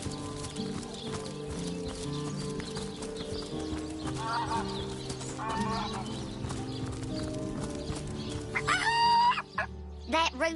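A rooster in the video game Divinity Original Sin crows near the end, loud and clear over a farmyard bed of horse clip-clops, whinnies and a steady music drone.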